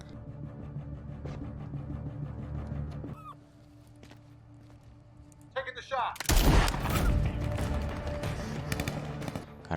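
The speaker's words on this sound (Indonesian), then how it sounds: "pada akhirnya memicu aksi tembak-menembak" Gunfire erupts in a shootout from the film Every Last One, a soldier caught inside a town: loud, dense bursts of shots after a quieter stretch with low rumble and a few short calls, the firing sustained and close through the final seconds.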